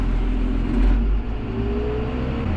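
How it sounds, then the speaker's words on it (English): Farm tractor engaging its PTO to drive a feed mixer, a loud, close engine drone that swells briefly then settles into a steady hum with a rising mechanical whine, no talking. "Get the PTO going."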